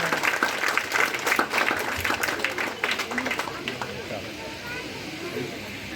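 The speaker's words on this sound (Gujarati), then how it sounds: "આપણે હવે બાળકોને તાળી પાડીને વધાવીશું" An audience at a primary school function in Baldagam, Pardi, applauds the schoolchildren with loud, dense clapping that peaks early and then thins to a softer, scattered patter by the end.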